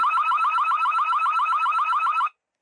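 Small built-in alarm on a Carprotec camera for leisure vehicles sounds a loud, rapid warbling electronic tone that repeats evenly for about two seconds and then cuts off abruptly into silence.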